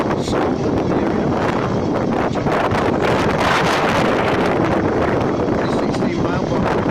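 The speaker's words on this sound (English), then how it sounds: "It's a little bit on the windy side." Outdoor wind batters the microphone on a blustery day in the far reaches of Scotland, a loud, continuous roar and rumble that never lets up.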